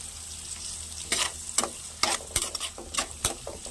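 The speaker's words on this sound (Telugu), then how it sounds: "సో ఆయిల్ వేడెక్కింది కదండి, ఇప్పుడు దీంట్లో కొంచెం ఉల్లిపాయలు, కొంచెం ఫ్రై అవ్వాలి" Onions fry in hot oil in a pan for a curry, a steady sizzle broken by several sharper stirring scrapes and crackles at close range, with no talk.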